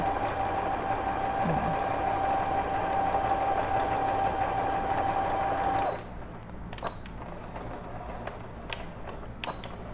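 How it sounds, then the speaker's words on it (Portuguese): A sewing machine stitches fabric scraps with a steady humming whir for about six seconds, then stops, leaving faint clicks and handling noises. "E aqui começa a costurar novamente."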